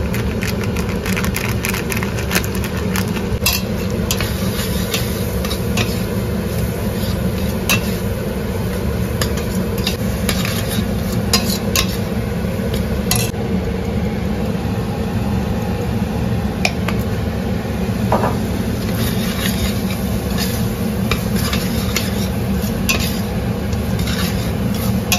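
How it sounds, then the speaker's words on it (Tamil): Sambar powder being stirred into food cooking in a pan, with soft spoon scrapes and squishing over a steady hiss and hum that runs evenly throughout, without speech. "ரெண்டு நிமிஷம் நல்லா கலந்து விடுங்க."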